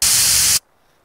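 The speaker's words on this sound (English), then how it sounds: "This kind of air can's kind of like massive bright noise, which is kind of like a high passed white noise." Bright, high-passed white noise from a Serum noise oscillator, like an air-can hiss, fills the first half-second loudly and evenly, then cuts off abruptly into near silence.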